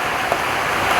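Rain falls steadily on a surface during the rainy season at a rural home with solar panels, a dense continuous patter without voices.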